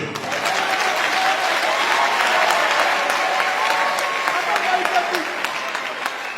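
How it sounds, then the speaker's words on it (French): A church congregation at a Sunday sermon applauds together, a steady sustained wash of clapping from many hands, moderately loud, with scattered voices and cheers underneath. "Est-ce qu'on peut applaudir Dieu?"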